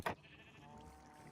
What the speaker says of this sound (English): We have one baby sheep roaming around